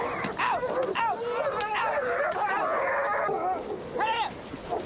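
Several dogs scuffle with excited yips, whimpers and short barks that come in irregular bursts, while a person talks over the commotion.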